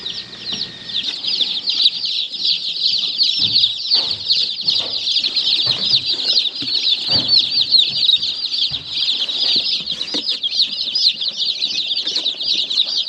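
Young meat chickens being unloaded into a pen make a continuous high-pitched peeping and clucking chorus, with wing flaps and scuffling thumps underneath, close and steady throughout.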